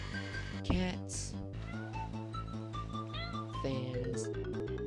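A cat meows twice, close and clear, the second call longer and drawn out, over a steady background of music and hum.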